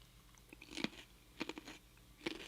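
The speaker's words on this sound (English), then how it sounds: "That carrot sound." Someone bites and chews a raw carrot close to the microphone, producing three clusters of crisp, crunchy bursts separated by short pauses.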